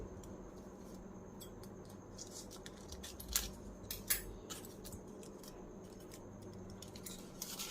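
Scissors snip cotton to shape ghee-soaked floating wicks for diyas, a series of quiet, close crisp cuts, a few louder snips clustered in the middle against a faint background.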